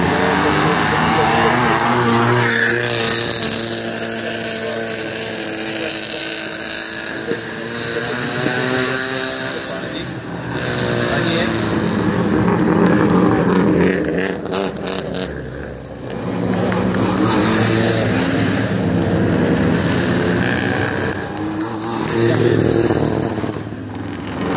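Racing motorcycles roar up a hill climb course during Saturday practice at the Valeri Velikov mountain climb, engines revving and shifting steadily throughout while a commentator talks over them.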